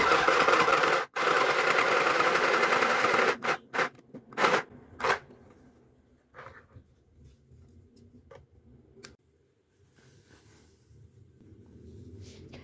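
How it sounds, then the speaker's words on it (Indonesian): Portable mini sewing machine stitching a pillowcase, a steady loud close whir for about three seconds, then a few short bursts and scattered ticks fading into quiet. "Terus dijahit balik biar lebih kenceng."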